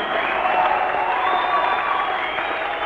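Concert audience at a 1973 show in Buffalo applauding in a dense, steady wash of clapping and crowd noise, loud and continuous throughout.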